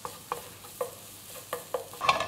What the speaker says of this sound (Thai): ผัดขิงผัดกระเทียมเรานะครับ